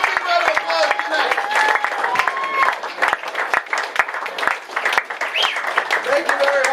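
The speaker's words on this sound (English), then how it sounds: "Give yourself a fucking big round of applause tonight." A comedy club crowd at a stand-up night bursts into sustained applause, dense clapping mixed with scattered whistles and shouts that swell and dip but never stop, with voices calling out over it.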